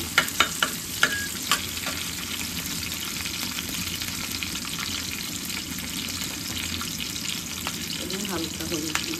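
Finely chopped potatoes frying in a pan for potato bhaji, a steady close sizzle with a few sharp utensil clinks near the start and brief stirring sounds later.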